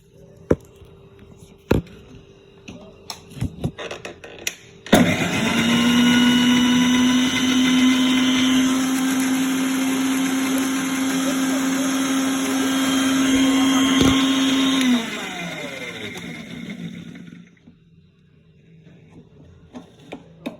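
An electric mixer grinder whirs loudly as it blends lemon juice, starting abruptly after a few clicks, holding a steady high whine for about twelve seconds, then winding down to quiet.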